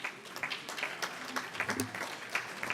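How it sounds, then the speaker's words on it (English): Scattered applause from an audience at a centenarian celebration, with distinct individual claps ringing out at a moderate level over a low room murmur. "Let's give them a round of applause."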